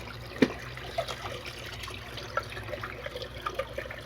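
Water flows into a tank through a PVC ball valve, a faint steady trickle and gurgle with a few small splashes and drips scattered over a low background hum.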